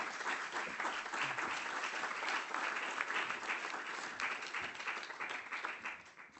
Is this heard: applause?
yes